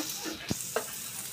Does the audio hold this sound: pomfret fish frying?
yes